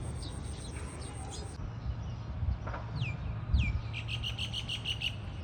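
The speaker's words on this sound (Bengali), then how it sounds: "যে একটা চড়ুই কেবল আসছে" House sparrow chirping at a rooftop bird feeder, a few short bright calls standing out over a steady low background hum, with a quick run of repeated chirps near the end.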